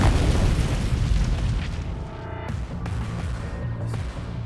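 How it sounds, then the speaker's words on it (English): A car bomb explosion: a deep, rumbling boom that rolls out loud and heavy, then decays into a low roar with a few sharp cracks. "the car is blown to pieces by a car bomb"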